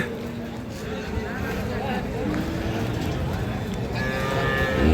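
A dairy cow moos amid a noisy crowd at Ambari cattle market, with low, drawn-out calls rising over steady chatter and market bustle.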